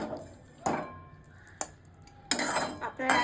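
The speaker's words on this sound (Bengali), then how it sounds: "এই আমি এটাকে একটা বাটিতে তুলে নেব।" Utensils clink and scrape against a bowl as cooked mustard-greens pitha is served into it, a few sharp metallic knocks and a longer clattering scrape at the end, close and fairly quiet.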